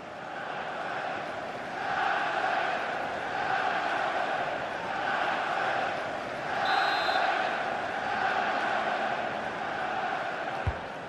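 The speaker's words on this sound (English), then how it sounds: "just listen to the crowd. They know this is a big chance to equalise." A stadium crowd in the FIFA 24 football game, Manchester United against Chelsea, roars in swelling waves, rising and falling steadily at a moderate distance with no clear talk over it.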